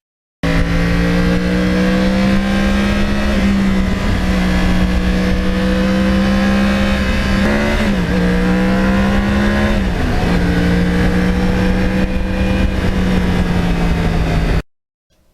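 A 2009 Yamaha R1 crossplane motorcycle engine runs loud and steady while riding, its low drone holding for about fourteen seconds with two brief dips and rises in revs before cutting off abruptly.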